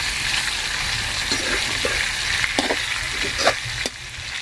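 Garlic butter chicken in large pieces fries in a pan with a steady, close sizzle, broken by a few light knocks of a stirring utensil, and no one speaks.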